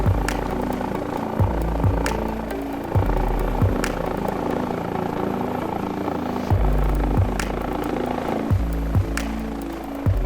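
An Airbus H145 helicopter in Microsoft Flight Simulator performs a downwind 180-degree autorotation turn, its rotor thumping steadily over a continuous turbine hum with periodic low beats and sharp clicks, no voices.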